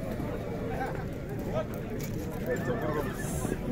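Horses at a busy outdoor horse market in Bishkek whinny amid constant chatter and babble from people nearby, the animal calls faint under the talk.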